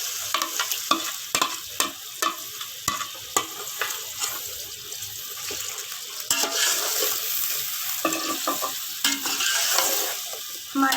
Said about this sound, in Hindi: अब ये जो चिकन है मैं इसमें सारा डाल दूँगी।